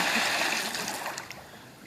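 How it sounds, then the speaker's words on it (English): A child diving into a pool makes a small splash, a brief wash of water noise that settles into light trickling and dripping. "you just make a little splash"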